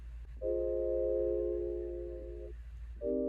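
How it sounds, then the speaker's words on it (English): A sustained synth pad made from tuned, pitched sampled blips plays a steady stacked chord for about two seconds, breaks off, then returns; clear, loud and alone with no talking. "I also made a really cool lead, pad sound out of it."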